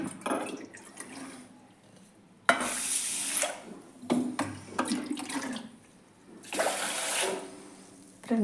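Water runs from a tap in a home kitchen, coming in several loud splashing bursts separated by quieter gaps.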